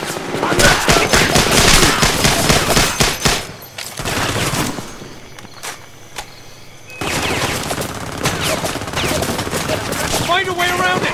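Heavy automatic gunfire in the Homefront video game: loud, dense bursts rattle continuously, drop to a quieter lull with scattered shots, then resume at full intensity.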